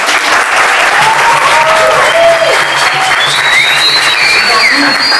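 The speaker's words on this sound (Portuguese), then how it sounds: "uma salva de palmas pro" A dense, loud round of applause from a crowd at a capoeira master's graduation ceremony, sustained throughout, with voices and whistles faintly mixed in over the clapping.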